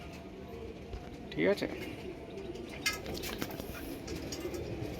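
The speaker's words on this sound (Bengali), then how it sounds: "শখ করার জন্য এক জোড়া কালাঙ্কা পায়রা" A pair of Kalankha pigeons, a male and a female from an old home-bred line, coo softly in short bursts beneath a person's nearby talking.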